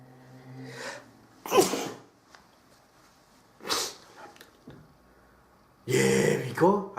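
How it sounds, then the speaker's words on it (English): A man sneezes several times in separate loud bursts, each preceded by sharp sniffs and breathy inhalations, close and unaccompanied by talk, with quiet pauses between the fits. "I can't stop sneezing, fam."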